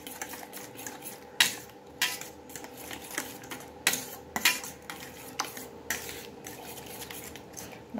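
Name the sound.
mixing dough ingredients with a spoon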